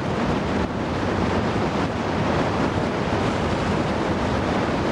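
Himalayan river rapids on the Dudh Kosi, a constant loud, dense roaring rush of whitewater mixed with wind buffeting the microphone, with no voices.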